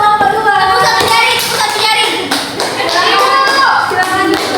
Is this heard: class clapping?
yes